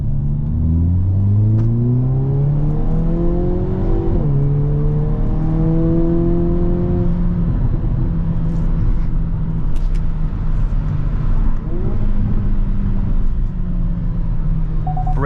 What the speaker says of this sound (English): let's go ahead and do an acceleration right here